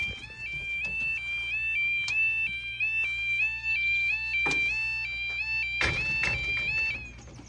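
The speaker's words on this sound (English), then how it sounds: "That really is a warbling alarm" A warbling electronic alarm at a railway level crossing alternates rapidly between two high tones in a steady repeating pattern, fairly loud outdoors with a few sharp clunks and bumps mixed in.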